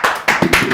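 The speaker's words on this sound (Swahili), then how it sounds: "Makofi." Brief burst of hand clapping from a small audience on a Kikuyu-language show, a few sharp, close claps in quick uneven succession over less than a second, loud and with no talking.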